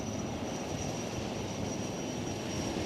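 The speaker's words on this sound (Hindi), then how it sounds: "इनके ठीक पीछे है 42B पनडुब्बी प्रतिरोधी और seeking 42 Bravo हेलीकॉप्टर" A Sea King 42B anti-submarine naval helicopter flies past during a ship commissioning ceremony, its engine and rotor giving a steady, broad roar with a faint high whine throughout.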